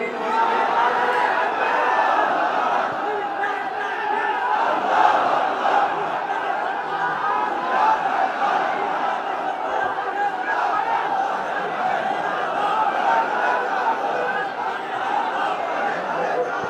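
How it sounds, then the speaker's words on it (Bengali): A large congregation at an Islamic sermon about Umar ibn al-Khattab roars takbir together, a dense, sustained mass of voices filling the space loudly and evenly from start to finish with no solo speaker above it. "তাকবীর দেন তো একজন আওয়াজ করে।"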